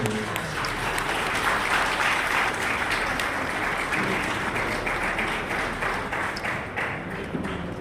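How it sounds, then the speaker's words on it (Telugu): Sustained applause from a crowd gathered for an honouring ceremony for a senior yoga guru, dense steady clapping that fills the whole stretch with a slight fade toward the end. "ఒకసారిగా మీ చప్పట్లతో ఈ కార్యక్రమాన్ని"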